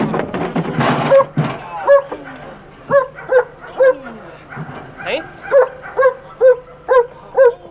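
A rescue dog working with paramedics barks repeatedly at close range, a steady run of sharp, yelping barks about every half second, with a noisy rustle at the start.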